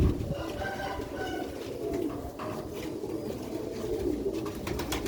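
Sialkoti black-faced pigeons, old pure-bred stock, cooing in repeated soft low calls at close range, with faint background noise and a few chirps.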